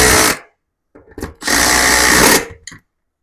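A power tool drives the front screws of a ceiling TV mount in loud, close bursts of whirring, the first brief, then a short stutter and a longer run, ending with a quick tap.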